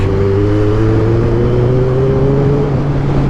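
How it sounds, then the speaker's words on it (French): A Ducati motorcycle engine runs loud and steady on the road, with a rising whine and a constant low drone throughout, close to the rider. "Très belle Ducati là"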